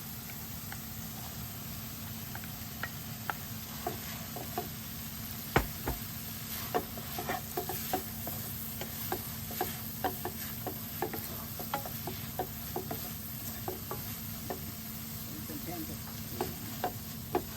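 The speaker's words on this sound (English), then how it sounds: "I'll mix it for a minute or so." Bitter gourd pickle is stirred in a hot pan, with soft continuous sizzling and frequent light scraping knocks of the spoon in an uneven rhythm, close and with no voices.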